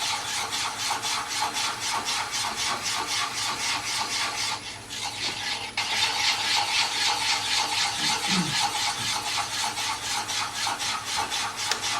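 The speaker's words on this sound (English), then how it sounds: "So I'll put the gouge here and go forward through the threshold between the old and the new." A wood-turning gouge cuts a wooden bowl spinning on a lathe, giving a steady, continuous rubbing rasp close by. It holds an even level throughout, with a brief dip near the middle.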